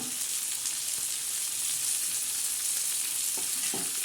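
Onions and tomatoes fry in a pan for a spicy tomato thecha with bombil, garlic and green chillies, giving a steady, close sizzling hiss with a few soft stirring knocks near the end.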